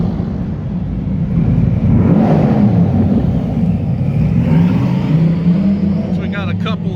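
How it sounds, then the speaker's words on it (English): A car drives onto the Darlington Raceway track, its engine rumbling steadily and loudly from inside the cabin with a slight rise in pitch as it moves, with a voice talking over it. "We are going to go and drive on the track."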